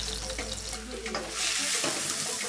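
Cumin seeds hit hot oil in a pan and crackle into a bright, dense sizzle that grows louder partway through, close up and steady, with no voices over it.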